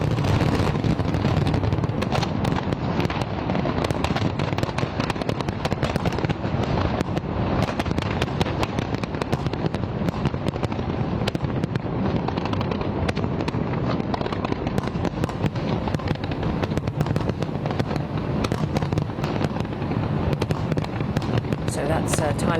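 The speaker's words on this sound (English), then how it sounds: "Thailand ringing in the new year with a dramatic fireworks display" New Year fireworks in Thailand crackle and pop in a dense, continuous barrage, loud and relentless, with a roaring wash of crowd and wind beneath.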